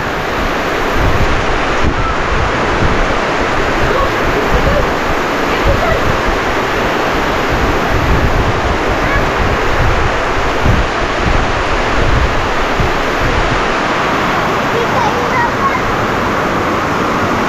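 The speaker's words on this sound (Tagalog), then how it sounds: "Iba yung lakas ng ulan. May kasamang hangin." Heavy typhoon rain pours down with strong gusting wind near the sea, a loud and constant roaring rush with low buffeting surges from wind on the microphone.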